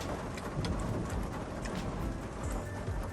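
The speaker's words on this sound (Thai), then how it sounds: "ฝนตกท่านผู้ชม" Rain pours steadily onto a camper van at a campsite, a dense, even patter with scattered louder drops, close and continuous throughout.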